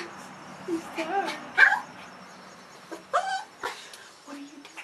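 A tired puppy gives a few high, thin whimpers and whines in short bursts, close by, over a quiet room.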